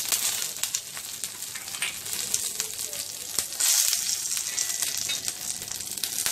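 Curry leaves and green chilli pieces fry in a pan with a dense, bright, steady sizzle close by. A few clicks of stirring come through, and one short louder crackle bursts out midway.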